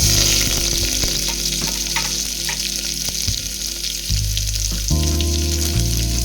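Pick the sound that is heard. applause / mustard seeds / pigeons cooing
mustard seeds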